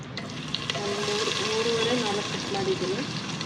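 Onions frying in a pan for Andhra-style country chicken biryani, a steady close sizzle and crackle throughout with faint tonal hum and a person's voice partly audible.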